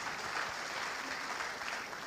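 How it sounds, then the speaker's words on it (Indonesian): Church congregation applauding, a steady wash of clapping from many hands at moderate distance, sustained throughout without a break. "yang setuju berikan tepuk tangan"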